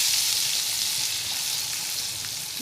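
Tomatoes hit a pan of frying spices with turmeric and salt, giving a loud continuous sizzle and crackle up close that fades slightly toward the end.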